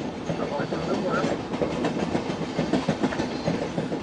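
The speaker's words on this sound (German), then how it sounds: "Der Interregio biegt Richtung Osten ab." An Interregio train bound for Dresden rolls out of Leipzig main station, a steady rumble with rhythmic clickety-clack of wheels over the busy track throat, heard from a short distance.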